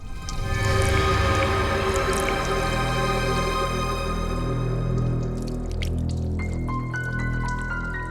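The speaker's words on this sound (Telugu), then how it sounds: "బాత్రూంలో ట్యాప్ తెరిచిన సౌండ్ వస్తోంది" A bathroom tap left running, with water pouring and dripping in a steady splashing stream, fairly close and continuous, with no talking.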